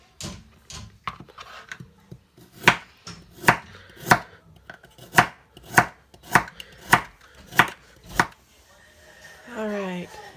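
Carrots chopped with a knife on a cutting board, a quick series of about nine crisp, evenly spaced thuds rising in the middle, close and loud, with a faint noise near the end.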